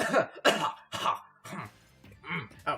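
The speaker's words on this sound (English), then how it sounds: "Oh, sorry, wicked cough there." Several harsh coughs and throat clearing from one person, coming in rough bursts separated by short pauses, close and loud, with in-game sounds from Super Smash Bros. Ultimate faintly behind.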